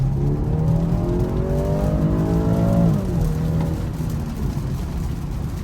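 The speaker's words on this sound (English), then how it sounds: "Just floored it there in comfort mode." A 2019 BMW 330i accelerating at full throttle in comfort mode, its engine note climbing steadily through the revs, then dipping at a gear change and pulling again, heard from inside the cabin with road noise underneath.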